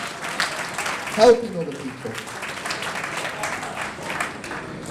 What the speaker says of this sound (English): can we just give James a round of applause